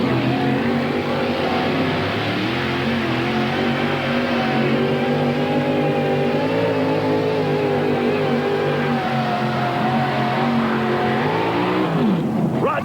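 A mini modified pulling tractor with a 540 cubic inch Chevrolet engine on a 1992 Midwest chassis, making a run at a 1993 NTPA tractor pull in Scribner, Nebraska: a loud, sustained, high-revving engine roar holding steady, then sagging near the end.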